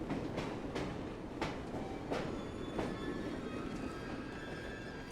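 A train in the video game Assassin's Creed rumbles along, with a steady roar and rhythmic clacks of the wheels every half second or so, loud and close.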